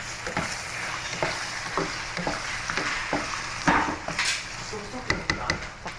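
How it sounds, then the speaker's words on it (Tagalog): Beef cubes stirred into sizzling food in a pan give a steady frying hiss, punctuated by repeated sharp scrapes and clinks of a utensil against the pan, fairly close and with no voice over it. "Ilagay natin tong beef cubes dahil dalawang beef cubes and then i-mix natin ulit."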